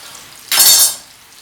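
Meatballs with parsley and cheese frying and browning in a pan, a sudden bright sizzling burst that swells for about half a second, then settles back to a quieter background hiss, close and alone.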